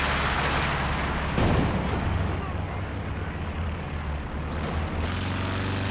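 An artillery barrage hits in the Company of Heroes 2 strategy game. A sharp, loud impact bursts out and then gives way to a dense rumble of distant shelling and battle noise, with a voice talking underneath.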